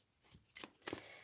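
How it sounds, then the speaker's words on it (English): A short burst of tarot card shuffling, quick riffling snaps rising to a brief crisp flurry near the end, close and fairly quiet. "So I'm going to shuffle the deck"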